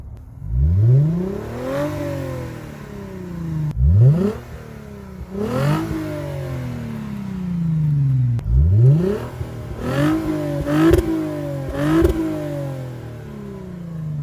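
A Lexus IS250 with an Invidia Q300 axle-back exhaust revs hard three times with a deep, throaty exhaust roar, then gives several quicker blips of the throttle, loud and close.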